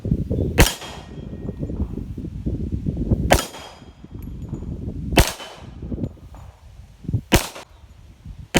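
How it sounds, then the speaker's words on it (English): A Rock Island Armory M1911-FS GI Standard pistol fires Winchester White Box 230 grain rounds outdoors in wind: four sharp, loud single shots spaced a couple of seconds apart over steady wind rumble. "Now for the rounds, we're shooting Winchester White Box 230 grain."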